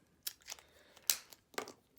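Scissors snip through paper hats for a card in four or five short, crisp cuts spaced about a quarter second apart, close and fairly quiet.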